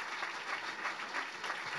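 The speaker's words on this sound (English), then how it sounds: "Big round of applause here." Steady applause from a small crowd at a New Jersey tech meetup, dense even clapping throughout, moderately loud and close.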